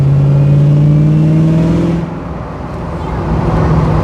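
Ford Mustang engine revving up as the car accelerates, a rising droning tone that drops off as the gear shifts at about 3,000 rpm, then builds again on a bendy road, loud and close from inside the cabin.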